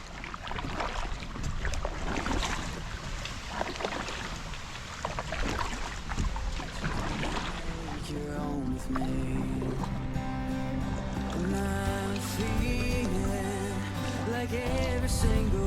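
A kayak paddle splashes through water in rhythmic strokes from a Sea Eagle PaddleSki 437 inflatable kayak on a Florida spring-fed river, with wind noise, before music fades in over the paddling.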